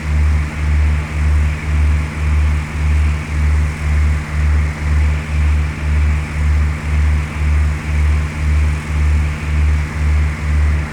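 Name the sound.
airplane engine in a flight simulator video game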